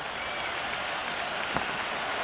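A packed cricket crowd at an India vs West Indies T20 World Cup quarter-final keeps up a dense, continuous roar of cheering and applause from the stands, steady and enveloping throughout.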